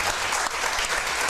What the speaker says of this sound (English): Applause to you guys.